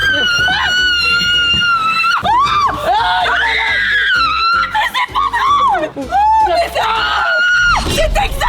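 A woman shrieks loudly in fright at snakes during an extreme cardboard-box hide-and-seek game, with long piercing screams and yells rising and breaking, interspersed with laughter and excited voices, close and very loud.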